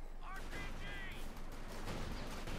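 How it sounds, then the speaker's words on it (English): Barrage of high-explosive tank rounds from a veteran T2 crew bursting among Volksgrenadier infantry in the World War II strategy game Company of Heroes 2. Dense overlapping blasts and crackling impacts form a steady, loud wall of battle noise, with brief whistling tones near the start. "High explosive rounds here from the veteran T2 crew, landing a few nasty explosions upon the Volksgrenadiers."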